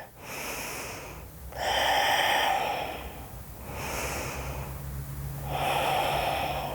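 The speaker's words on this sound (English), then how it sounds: "Ujjayi breath." Slow, audible Ujjayi breathing held in a warrior one yoga pose: long hissing inhales and exhales alternating in a steady rhythm, close and fairly soft, with no talking.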